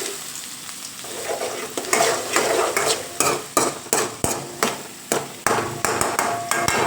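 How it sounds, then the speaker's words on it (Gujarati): Onion and ginger sizzle in a hot pan while a spoon scrapes and knocks against the metal in a rhythmic series of sharp strokes, close and loud. "આપણે નાખીશું ડુંગળી અને આદુ બરાબર. અને હલાવી નાખવાના."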